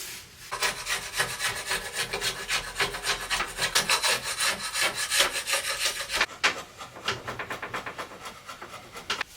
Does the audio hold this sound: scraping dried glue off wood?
yes